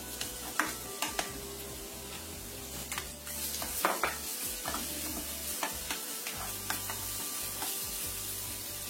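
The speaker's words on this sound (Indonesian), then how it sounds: "Masukkan jahe cincangnya, tumis sebentar." Steady sizzling of chopped ginger frying in oil, with a spatula scraping and clinking against the pan at irregular intervals.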